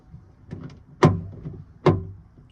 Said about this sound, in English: you wanna also check if your door locks